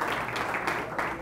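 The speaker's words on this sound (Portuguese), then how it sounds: "Palmas, por favor." Applause from a live audience at a technology event in a Brazilian auditorium, a steady dense wash of many hands clapping at moderate loudness throughout, with some voices faintly mixed in.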